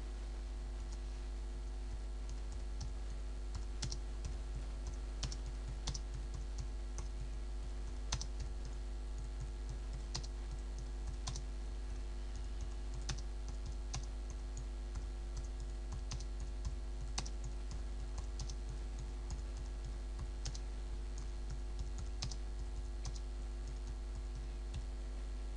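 Typing on a computer keyboard, a steady patter of light key clicks over a constant low electrical hum, with no voices.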